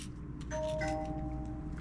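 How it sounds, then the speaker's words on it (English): A phone ringtone chimes in a home kitchen during cooking, a sustained two-tone ding-dong ringing for over a second, moderately loud and alone with no talk. "Ding dong, there goes my phone."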